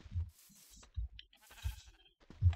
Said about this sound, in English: Oh, there's a sheep.